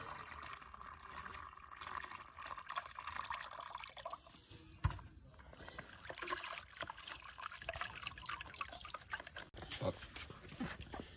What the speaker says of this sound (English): You can see, you can just be, draining out the water.